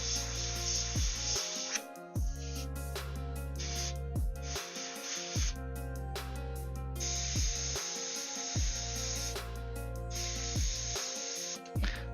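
Steady airbrush hiss of paint being sprayed during a hobby painting session, coming in several sustained bursts separated by short pauses over a constant low hum.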